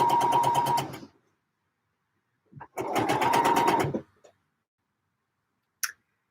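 A sewing machine stitches trouser fabric in two steady, fast-pulsing runs of about a second each, separated by a pause, with a few small clicks and a brief tick at the end.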